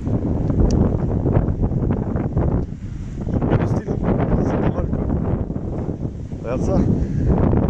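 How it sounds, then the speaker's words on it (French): Wind gusts across a campsite and buffet the microphone in a continuous low roar, with a brief lull near the middle, while a person talks over it. "Il y a du vent."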